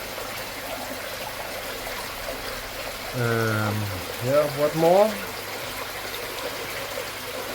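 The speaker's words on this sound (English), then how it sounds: "Still water going in, still no leaks." Water running steadily into a budget garden pond being filled, a constant trickling, rushing wash throughout, with someone speaking briefly over it.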